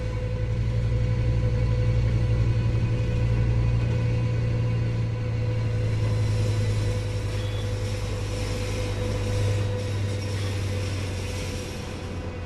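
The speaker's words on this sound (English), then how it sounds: "this guy especially with this big truck and big load." A heavy truck with a big load in the video game Train Sim World 4 rumbles steadily close by, a deep low drone holding for several seconds before easing off slightly.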